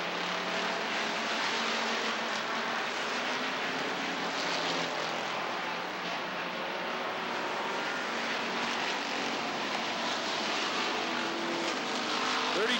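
Race cars running under green flag at Rockford Speedway, a continuous dense engine roar from the pack that stays steady and loud throughout, with no breaks or talk.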